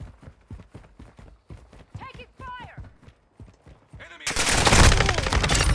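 Heavy gunfire from a Call of Duty Modern Warfare II match erupts loudly near the end, a dense sustained burst following a stretch of rhythmic clicking footsteps and brief radio-like voice chatter.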